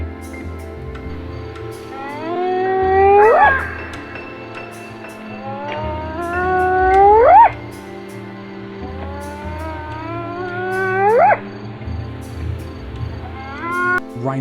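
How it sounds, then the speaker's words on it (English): A wild hyena calls three times, plus the start of a fourth, each a loud, drawn-out rising whoop that swoops upward and breaks off, separated by a few seconds of low background rumble. "Hyenas are known for their laughing sound."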